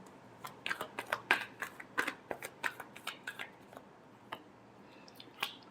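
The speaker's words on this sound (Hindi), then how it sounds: "last shuffle" Tarot cards are shuffled by hand, a rapid run of crisp riffling flicks and soft slaps close by, bunched in quick bursts with brief pauses.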